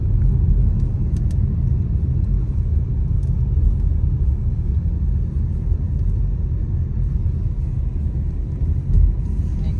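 A car drives along a road toward the airport, its engine and tire rumble a steady, loud low drone heard alone from start to finish.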